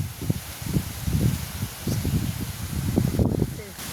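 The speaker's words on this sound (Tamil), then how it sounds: "எப்படி காற்றடிக்குதுன்னு பாருங்க." Strong wind gusts outdoors in a rural village, rushing and buffeting in repeated low surges that come and go across the clip.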